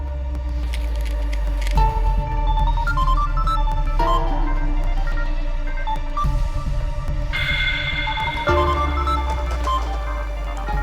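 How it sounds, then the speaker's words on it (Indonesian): A phone rings with an electronic melodic ringtone, repeating over a low throbbing hum, with no one speaking. "Mas Randy kenapa telepon malam-malam gini?"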